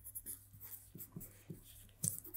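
Pen scratching on paper while marking a sleeve pattern measurement for a single-breasted jacket, a few short strokes at close range, soft and quiet with no talking.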